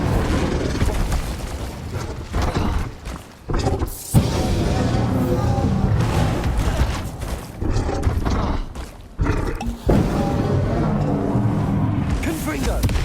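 An Incendio fire spell in Hogwarts Legacy during San Bakar's Trial makes a sustained roaring, booming rush of flame and combat noise with short drop-outs, heard under steady talking.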